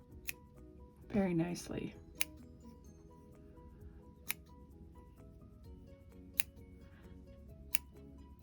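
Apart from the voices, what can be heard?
scissors snipping yarn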